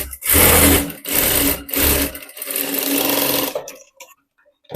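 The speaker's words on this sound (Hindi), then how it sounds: "तो इसमें मैं डबल सिलाई लगा रही हूँ।" Sewing machine double stitching a straight fabric strip for a blouse belt, three loud runs of whirring motor with short stops between, ending in quiet clicks.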